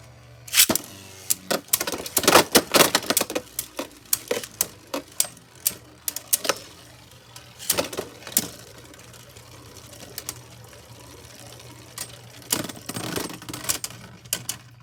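Beyblades Notus and Mirage Fafnir launched into a stadium, irregular sharp clacks and ticking collisions in bursts over a low spinning whir, close and fairly loud.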